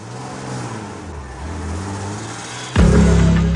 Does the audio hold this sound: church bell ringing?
no